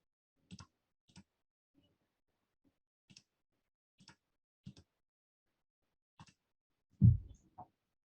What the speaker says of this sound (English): So I click save, I click apply, and I click OK.